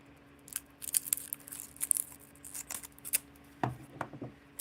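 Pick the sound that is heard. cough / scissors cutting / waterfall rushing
scissors cutting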